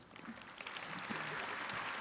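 A commencement crowd breaks into applause during an attorney general's speech, clapping building and holding steady across the hall, moderately distant.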